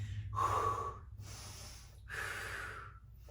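Strong, forceful breaths pushed out during ankle-weight leg lifts, two long breathy exhales with a short pause between, close to the microphone and heard with no talk.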